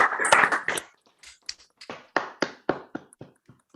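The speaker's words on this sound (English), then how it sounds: "give all of these candidates a round of applause" Scattered applause from a few online meeting participants, a burst of dense clapping at first that thins into sparse, separate claps and taps, near and fairly loud with nothing else heard.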